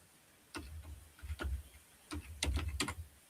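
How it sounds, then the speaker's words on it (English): A code being typed on a computer keyboard: a few sparse, close clicking keystrokes in short clusters, separated by brief pauses, with no talking. "I just typed it in and it wasn't typing."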